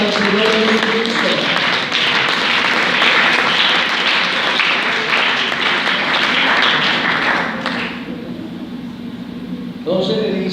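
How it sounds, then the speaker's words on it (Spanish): Congregation applause rises in a church service, loud and sustained for about eight seconds, then thins out with a lull and a few scattered claps returning at the end. "Ese aplauso para el Señor Jesucristo."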